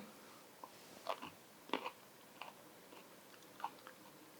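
Garlic cloves chewed up close, a handful of crisp, crunchy bites spaced irregularly, quiet and unaccompanied by speech.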